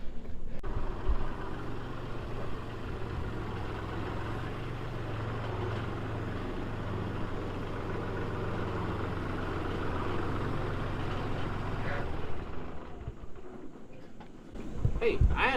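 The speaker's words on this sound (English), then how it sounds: "let's get the tractor over here and put some mulch around." A steady, low tractor engine rumble runs throughout, holding a constant drone before a brief clatter near the end.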